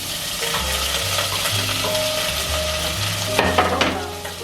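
Ginger garlic paste frying with cumin and coriander seeds in a pan, a steady sizzle with stirring scrapes and a few clattering knocks near the end, close and without talk.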